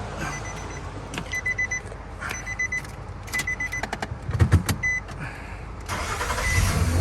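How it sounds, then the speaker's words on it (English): A 2008 Nissan Frontier with the 4.0 engine cranks in several short bursts, then the engine catches and settles into a rising idle. Close and loud, with no talking. "so reconnect the battery, so let's crank it"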